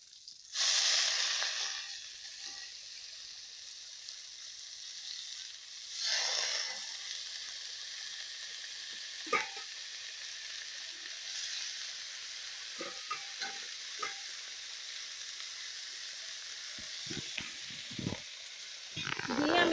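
Spinach leaves hit a hot pan with a loud burst of hissing sizzle, then settle into a quieter fry broken by occasional stirring scrapes and clicks.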